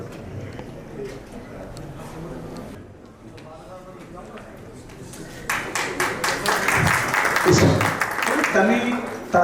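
Audience applause at a Hindi-language ceremony where a minister is honoured with a shawl, swelling from a low murmur into loud, sustained clapping in the second half, with speech underneath.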